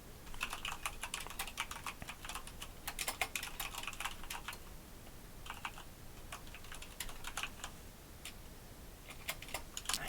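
Rapid keystrokes on a computer keyboard as a comment is typed, uneven bursts of clicking with short pauses, close and fairly quiet, with no one talking.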